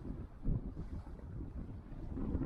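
Strong wind of over 20 knots buffets an inflatable fishing boat at sea, a continuous low roar and rumble of gusts against the microphone with rising and falling surges.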